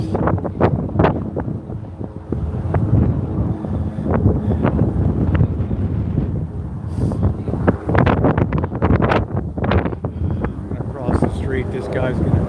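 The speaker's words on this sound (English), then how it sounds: "Oh, this wind is fierce." Strong wind buffets the microphone outdoors on a windy Las Vegas street at night, a loud continuous rumble with gusty swells, while a person talks through it.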